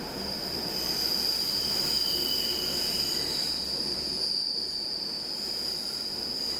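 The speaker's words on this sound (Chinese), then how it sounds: "换来的就是从车外传进来的刺耳铁轨摩擦声" Berlin S-Bahn train wheels screech on the rails with a sustained, piercing high whine, heard from inside a carriage with open windows over a steady low rumble of running noise.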